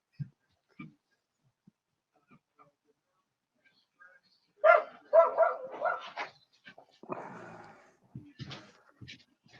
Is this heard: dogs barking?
yes